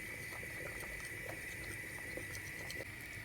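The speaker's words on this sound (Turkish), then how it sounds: "Çorbamız çok güzel pişiyor" A pot of Black Sea style cabbage soup with potatoes and bulgur simmers on the stove, giving a steady, close bubbling hiss with small pops throughout.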